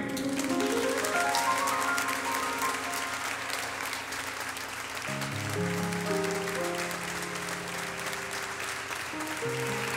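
Audience applause greets the singer at a live music performance: a steady wash of clapping that runs the whole time, mixed with sustained musical tones and no talking.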